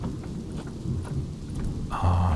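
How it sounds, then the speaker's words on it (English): Rain with rumbling thunder in a zoo-building video game, a steady close wash of rainfall with low rumbles swelling and a brighter burst near the end, no talk. "Oh, it's raining."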